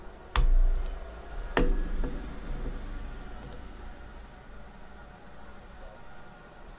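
Computer keyboard during an Ubuntu and Windows 10 dual boot install, two sharp, loud key presses about a second apart, the second being Enter, followed by quieter clicks over a low steady hum, close to the microphone.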